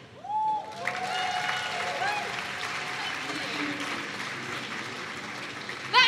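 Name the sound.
audience applause at the Roundhouse event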